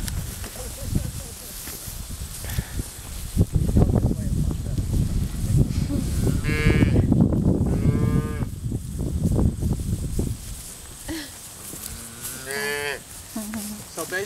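Cattle moo several times nearby on a farm amid rustling and shuffling movement near a fence line, with a few quieter vocal sounds in between.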